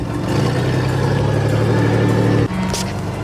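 The old 4.3 engine of a 1989 Chevy S10 Blazer runs in 4 low on its last drive, a steady droning hum with a low rumble close by, briefly dipping near the end before carrying on.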